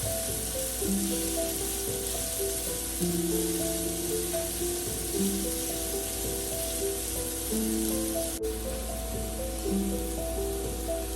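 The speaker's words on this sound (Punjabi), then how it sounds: "ਮੀਡੀਅਮ ਤੇ ਅਸੀਂ ਤੜਕਾ ਭੁੰਨਾਂਗੇ ਸਾਰਾ ਜਿੰਨੀ ਮੱਠੀ ਮੱਠੀ ਅੱਗ ਤੇ ਭੁੱਜਦਾ ਜੀ ਤੜਕਾ" A tadka for whole masoor dal fries in a pan over medium gas, a steady soft sizzle running continuously beneath background music.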